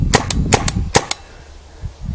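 A RAP4 T68 M4 paintball gun fires a quick volley of about six sharp, loud pops within a second, each with a crisp metallic snap, followed by a short quiet tail.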